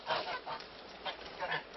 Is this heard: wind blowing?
no